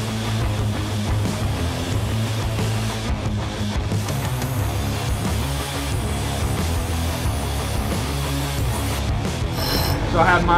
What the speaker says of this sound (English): there's just a little bit of slag on the back side of these parts. So I'm just cleaning them up in the bench grinder